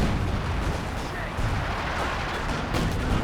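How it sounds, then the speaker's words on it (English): Artillery fire on a Company of Heroes 2 battlefield, a dense rumbling barrage of booms and bursts rolling continuously with no clear gaps. "drop some artillery on some of these"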